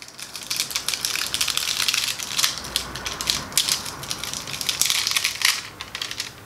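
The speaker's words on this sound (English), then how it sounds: "Once it's cooled down, I can then peel away my foil." Foil being peeled away from a card after cooling, giving a continuous crackly, crinkling rustle with dense rapid ticks, close and fairly loud, no voices.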